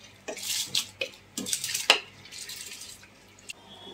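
Soaked basmati rice stirred into water in a pot for Hyderabadi chicken biryani, with a few soft scraping and splashing stirs and light clinks spaced irregularly, fairly quiet and close.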